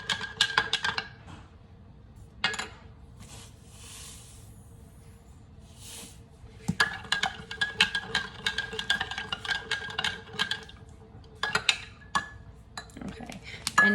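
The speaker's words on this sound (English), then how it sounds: "Still stirring." A mixture is stirred in a container with a spoon, giving bursts of clinking and scraping that come and go between quieter stretches, close and fairly loud, with no talk.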